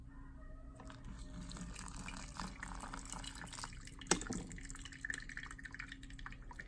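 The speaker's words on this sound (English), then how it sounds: "So I'm going to pour it over my coffee grinds." Hot water from a kettle is poured over ground coffee in a pour-over brewer, a faint, quiet trickle and drip with one brief sharp clink partway through.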